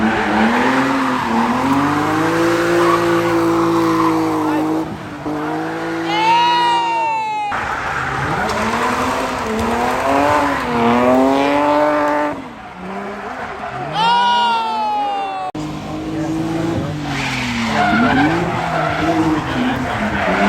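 Cars at an import and performance car show rev hard with loud tire squeals and skids, rising engine pitches repeating in bursts over a cheering crowd.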